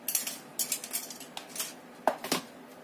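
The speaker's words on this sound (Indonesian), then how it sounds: "kita tambahkan terigunya, kita aduk menggunakan spatula saja ya" Banana cheese sponge cake batter being stirred by hand with a spatula after flour is added, a series of light scraping clicks and taps against the bowl, fairly close and quiet with no talking.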